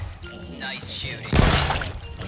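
Fruit shot and shattering in the VR game Shooty Fruity, a burst of bright crashing breakage following a stretch of game sounds and voice, fairly loud and sustained for about a second.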